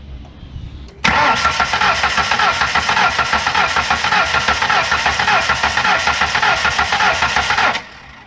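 A truck engine cranks over on the starter with its ignition packs unplugged during a compression test, giving a loud, steady rhythmic chug for about seven seconds before it stops, with no catch or start.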